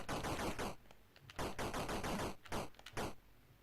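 Rapid gunfire shot into the air in the Atari 7800 game Xenophobe: bursts of fast, harsh, machine-gun-like electronic rattling, loud and close, separated by brief gaps.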